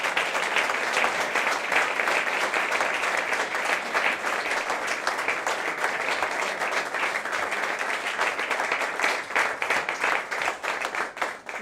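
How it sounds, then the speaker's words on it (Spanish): Sustained audience applause at a Spanish-language economics lecture event, dense and steady clapping throughout from a large indoor crowd, with a few faint voices mixed in. "Ana Gómez, para quien pido un fuerte aplauso, por favor."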